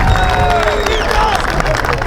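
Warm round of applause from an audience at a student association event in a university hall, dense steady clapping and crowd noise with a few raised voices throughout.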